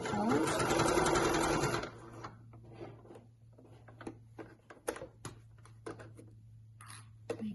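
A sewing machine stitches through several layers of apron fabric in a fast, loud run of about two seconds and then stops, followed by a person talking quietly over light handling noises.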